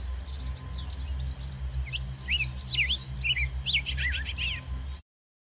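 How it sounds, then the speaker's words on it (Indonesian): A chestnut-breasted malkoha (Phaenicophaeus curvirostris) gives a run of quick, high chirping notes in irregular bursts over a low background hum before the sound cuts off. "Burung kadalan birah."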